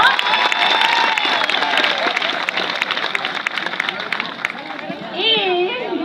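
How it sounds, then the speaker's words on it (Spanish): A crowd claps at a PRM campaign rally for Senate and deputy candidates: dense, loud applause fills the whole stretch, with cheering voices and chatter mixed in and a voice rising above it near the end. "Un aplauso."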